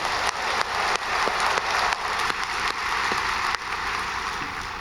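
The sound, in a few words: church congregation's encouraging applause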